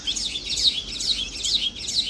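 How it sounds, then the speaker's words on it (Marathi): Bright, high chirps of baya weaver birds repeat in quick bursts, a small flock calling steadily and fairly close, with no voices. "किती चिमण्या येत आहेत सुगरण म्हणतात या पक्षाला सुगरण"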